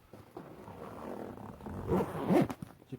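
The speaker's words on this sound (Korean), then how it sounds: "지퍼를 이렇게 누르면은," A zipper on a packed camping bag is drawn closed, making short, close raspy pulls that grow louder toward the end. The sound is quiet and heard alone.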